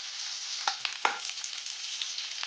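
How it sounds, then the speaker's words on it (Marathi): Onion and capsicum cubes sautéing in oil for veg Manchurian, a bright continuous sizzle with several sharper crackles and spatula clicks near the start, close and moderately loud, no talking. "आता आपल्याला हे तेलावर छान परतून घ्यायचंय."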